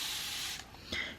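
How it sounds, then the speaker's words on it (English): Water spritzed from a spray bottle onto water-reactive paints makes a steady, close hiss, then breaks into a short pause and a second quick burst of spray. "if you spray them with water"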